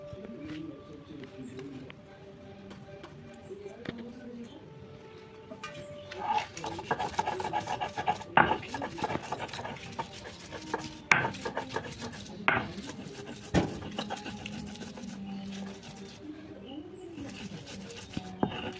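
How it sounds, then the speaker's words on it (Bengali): Chutney ingredients with dried fish are ground by hand on a shil-nora grinding stone, a rhythmic rubbing and rasping of stone on stone that starts quiet and grows louder and busier, with faint talk in the background. "তো এগুলো আমি সব এখন শিলনোড়ায় বেটে নেব।"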